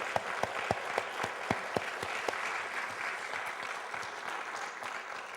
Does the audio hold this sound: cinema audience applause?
yes